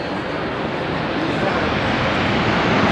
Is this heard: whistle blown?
no